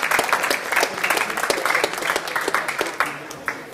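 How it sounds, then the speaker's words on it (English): An audience at a university discussion event gives a warm round of applause, a continuous rush of many hands clapping, fairly loud and steady, with no speech over it. "So for now, please, a warm applause for our guests."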